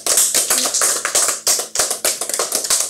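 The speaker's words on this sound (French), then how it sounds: "Est-ce qu'on peut applaudir Lucas, s'il vous plaît?" Audience applause for Lucas, a dense burst of hand clapping from a crowd, loud and close, lasting a few seconds with no talking over it.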